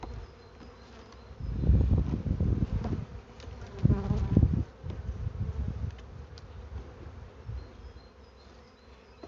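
Small, gentle Carpatica honeybees hum at an open hive, a close, steady buzzing that swells twice as bees fly near and then settles to a softer drone, with no voices.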